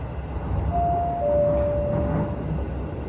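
Interior running sound of a Hokuso Railway 7500 series train, set 7503, with a Toyo IGBT inverter, arriving at the terminus at Imba Nihon-idai; a low rumble with a steady rising-then-held inverter whine over it.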